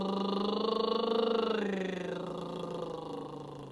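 A voiced lip trill sung as a vocal warm-up, a buzzing, fluttering tone that slides in pitch, held continuously at close range for nearly four seconds with no talking.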